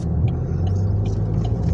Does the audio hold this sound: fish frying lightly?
no